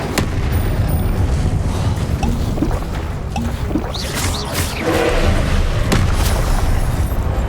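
Repeated fire and blasting spell bursts in the Hogwarts Legacy video game, a dense run of booming whooshes and crackling impacts layered over continuous rumbling combat noise, loud and close throughout.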